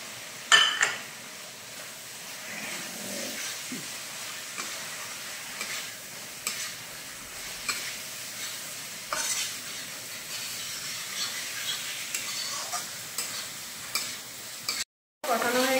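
Fried prawns go into a masala in a pan and are stirred, a moderate sizzle under repeated spoon scrapes and metallic clinks against the pan.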